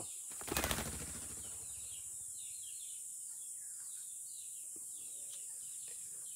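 A white-eared brown dove flaps its wings in one short, loud burst as it is released outdoors, then fades into a quiet background with faint bird calls and insects.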